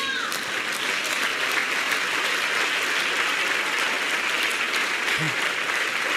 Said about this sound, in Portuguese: Vai, aplaude de verdade aí.